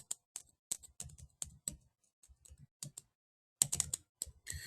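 Keys on a computer keyboard are tapped while a password is entered during a SQL Server setup, with quiet clicks in short irregular bursts, a pause, then a quicker cluster.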